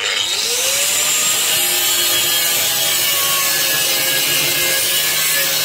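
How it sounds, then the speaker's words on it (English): Metal grinding on a handmade custom bike build in a workshop, a loud, harsh, steady whine that spins up at the start and runs continuously for about six seconds, with no talking. "a bit of grinding to start with"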